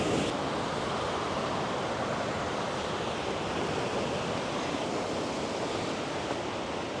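Little Navajo Falls, a waterfall at Havasupai in the Grand Canyon, roars close by as a loud, broad, unbroken rush of pouring water with no voices over it.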